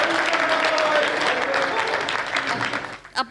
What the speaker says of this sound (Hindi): एक ताली तो भाई साहब के लिए बजा दो।